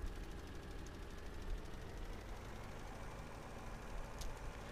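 A tractor engine idles steadily in Farming Simulator 2013, a low, continuous rumble that holds at a constant, fairly quiet level with no talk.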